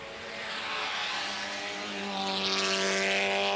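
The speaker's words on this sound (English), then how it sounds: "comes the Owlett, being jiggled through onto that crucial second apex inside Holly Mason's Aston Martin" A 1928 Owlett classic racing car, with chain drive under the seat, rushes through the chicane at Goodwood, its engine note climbing and swelling as it nears and passes, loud and continuous with crowd and track noise around it.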